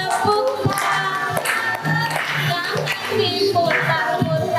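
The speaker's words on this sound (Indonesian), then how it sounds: "bertepuk-tepuk" Hands clap in a group activity alongside spinning hand motions, with several irregular claps sounding over a lively background of voices.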